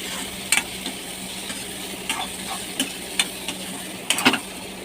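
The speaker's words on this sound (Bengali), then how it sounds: "এখানে আমি ভাজা আলুগুলো দিয়ে দেবো।" Fried potatoes get stirred into onion and tomato cooking in a pan, a low continuous sizzle punctuated by several quick metallic scrapes and taps of a spatula, near and without speech.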